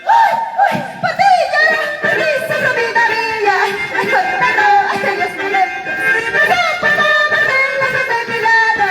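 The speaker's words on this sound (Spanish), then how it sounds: "Vengan los aplausos, damas y caballeros. Fuerte las palmas para el conjunto" A crowd at an outdoor tipaki tipaki dance contest in Dos de Mayo, Acraquia, applauds and cheers loudly and steadily throughout, with shouts and music-like tones blending into the dense, continuous roar.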